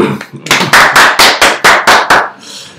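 Close, sharp rhythmic clapping from a small seminar group, about nine or ten loud claps in a quick even sequence, then a softer rustle as it fades.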